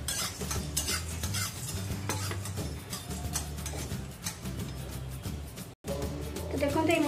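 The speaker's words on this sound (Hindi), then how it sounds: "देखते ये मसला सब मोर फ्राए होगी" Whole spices such as coriander, cinnamon, black pepper and cloves fry in a pan for a mixed vegetable dish, with continuous sizzling, repeated scraping and stirring clatter of a utensil, and a background hum throughout.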